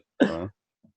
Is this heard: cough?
yes